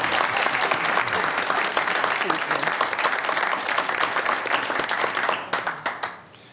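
A room of people at a sewer district board meeting applauds a retiring staff member, steady close clapping that carries for several seconds before tapering off into scattered claps.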